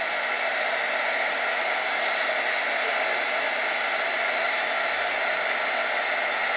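A heat tool blows a steady, loud, unbroken whoosh of hot air over a cutout shrink film stamp, the airflow holding constant throughout with no talking.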